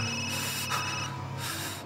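Telephone ringing in the survival horror game Resident Evil Village, with steady high electronic ring tones over a dense, continuous game ambience.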